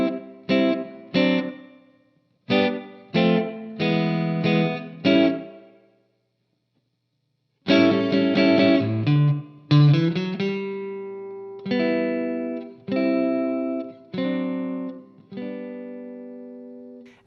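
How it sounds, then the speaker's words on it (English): Electric guitar playing the last four bars of the bridge of a song, strummed chords with effects, a brief pause, then sustained ringing chords, loud and close with no talking. "So the last 4 bars of the bridge sound like this."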